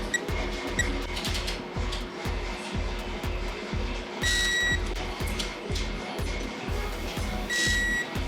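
A digital torque wrench tightens brake caliper bolts to 81 during a Brembo big brake kit install on a BMW E92 M3, giving two short electronic beeps over a steady rhythmic thumping background.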